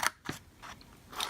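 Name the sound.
scissors trimming soap box paper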